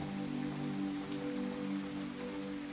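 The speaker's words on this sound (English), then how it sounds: "tonight it's just a chilly mix of mist and fine, steady rain" Fine, steady rain mixed with mist falls on a chilly winter night by a closed boardwalk, a soft, even patter that stays constant and faint throughout.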